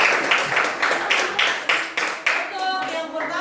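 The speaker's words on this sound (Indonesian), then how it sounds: "Ya, tepuk tangan buat semua." A classroom group claps for everyone, a run of loud rhythmic hand claps in quick bursts with a few voices mixed faintly underneath.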